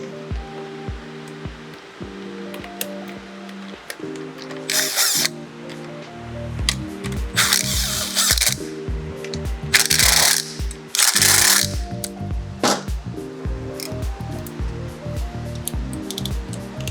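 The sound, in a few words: tightening bolt with 12 millimeter socket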